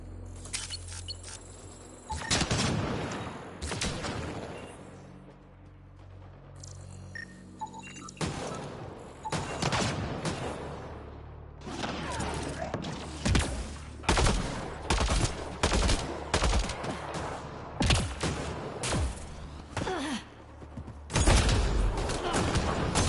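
Gunfire in the sci-fi shooter Mass Effect Andromeda, repeated sharp bursts and single shots that come irregularly across the stretch, some loud and close, with quieter gaps between them.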